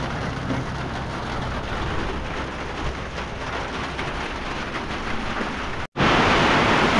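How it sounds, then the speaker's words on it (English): Heavy outdoor rain pours near a bean field, a loud, dense, unbroken roar that cuts out for an instant near the end and resumes even harder and brighter. "the rain has intensified. As you can see here, it has intensified"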